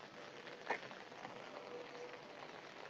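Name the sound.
rain falling on a rooftop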